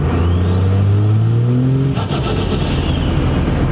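Diesel truck engine revving on throttle, a loud, close roar that climbs in pitch and then drops off as the throttle releases, with turbo whine over it and no talk.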